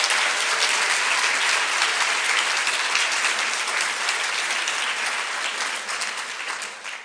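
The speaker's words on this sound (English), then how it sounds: "I was hoping everybody in the room could give a round of applause to all of the teachers who are here" An audience at a high school science day gives teachers a sustained round of applause, a dense, even wash of clapping that fades slightly near the end.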